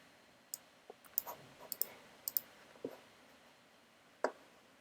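Computer mouse clicks while working in an Xcode storyboard: a series of sharp, close clicks, some in quick pairs, spread irregularly with pauses between them and no talking.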